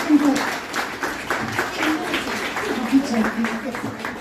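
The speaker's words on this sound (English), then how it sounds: "a big round of applause to my panel" Applause from an audience for a music and creator panel at a crypto meetup in London, a dense patter of claps running under a voice.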